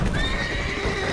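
Roach, the horse in the video game Witcher 3, gives a drawn-out neigh over a dense game soundscape, loud and close with no talk.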